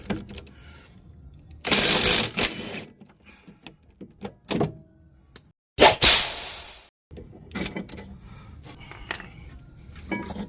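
A Milwaukee impact wrench works 17 mm bolts during a Honda CR-V CV axle replacement, firing in several short loud bursts separated by quiet gaps and small clanks.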